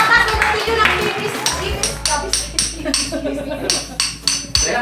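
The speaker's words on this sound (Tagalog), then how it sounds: "Sa wakas may martilyo natin. May gagamit na tayo. Try nga natin." A newly unboxed hammer is tried out with a rapid run of sharp, close knocks, with several people talking and laughing over the blows.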